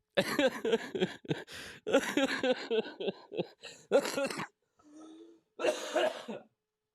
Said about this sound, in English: this cough won't let me go